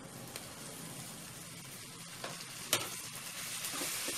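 Chopped tomatoes with masala frying in a pan for brain curry, a soft steady sizzle with occasional stirring scrapes and a single sharp clink, faint and close, no voices.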